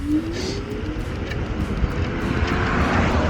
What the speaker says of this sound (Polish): Zobaczmy jak będzie jechał w trybie eko na trzecim biegu.